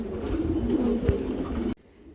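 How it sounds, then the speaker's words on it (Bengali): A pigeon gives a low, throaty coo, close and fairly soft, lasting under two seconds before going quiet. "আমরা একটা সিঙ্গেল কবুতর দেখতে পাচ্ছি"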